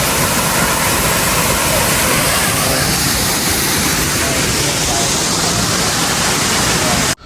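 A loud, steady roar of rushing water fills the air, a continuous broadband wash like a nearby waterfall in Puerto Vallarta, Mexico, cutting off abruptly at the end.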